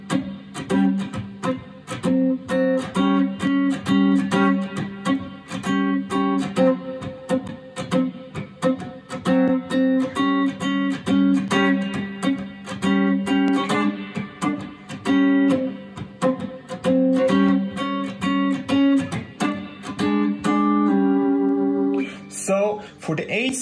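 Blues rhythm guitar comping on dominant seventh chords, playing only the 7th and 3rd of each chord, sounds as short, steady chord stabs repeating in a loose shuffle groove for over twenty seconds, close and loud with no talking.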